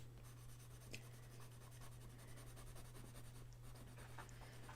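Pencil sketching on paper in a sketchbook: a quiet, continuous scratchy rubbing of graphite with occasional light taps, close and soft over a low steady hum.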